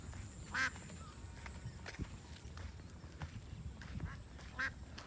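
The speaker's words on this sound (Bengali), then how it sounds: "হাঁস" Ducks quack in short, clear bursts at a village market on a sunny morning, a few separate calls spaced over a quiet background of low outdoor noise.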